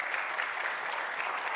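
A congregation at a sermon on a father's blessing claps loudly together, a dense, steady wash of many hands that holds at full strength throughout.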